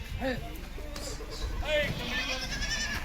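A dairy goat at a farm in Chandwad, Nashik district gives a few wavering bleats close by, with background voices and farmyard noise around it.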